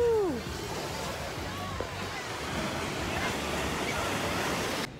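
Ocean waves wash onto a beach in a continuous broad roar with wind buffeting the microphone, a brief voice-like sweep at the very start.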